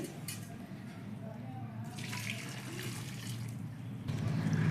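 Heated water pours into freshly mashed saag of spinach and cabbage, a steady watery rush that continues through the clip and swells louder near the end.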